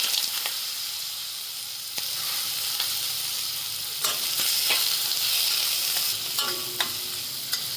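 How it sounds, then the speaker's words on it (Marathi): Brinjal and onions with a spoonful of turmeric sautéing in a pan, a steady close sizzle broken by repeated scrapes and clinks of a spoon stirring, with no voices. "परतून घेते असं पाच मिनटं थोडं नरम होईपर्यंत"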